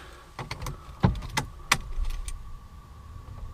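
Keys and a key fob jingle and clack inside a Mercedes CLS550, several sharp close metallic taps and rattles over a low interior hum.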